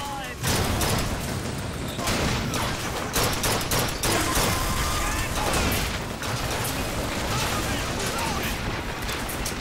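A Heavy enemy in BioShock Infinite firing a rocket launcher: continuous thunderous blasts and explosions mixed with battle noise, with a voice talking over the din.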